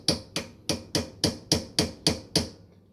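Nut driver extension tapping down a part inside a washing machine, eight sharp metallic hammer-like knocks at an even quick rhythm, close and distinct with no talking.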